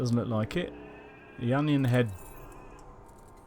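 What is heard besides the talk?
phone notification sound resembling a sheep bleat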